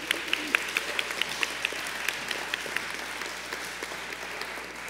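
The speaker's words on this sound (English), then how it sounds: "Let's have one more round of applause for the Nor'easter." An audience at a retirement event applauds, a steady even patter of many hands clapping indoors, moderately loud and heard alone.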